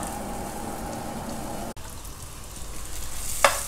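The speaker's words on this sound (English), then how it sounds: "So let's saute it for a minute." Two chilies sizzle as they are sautéed in a pan for a vegetable noodle soup, a steady crackling fry with a brief sharp clatter near the end.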